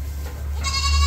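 Goats and young kids bleat at a goat farm in Bhiwandi. One drawn-out, nasal bleat rises loud and close near the end, over a low farm hum.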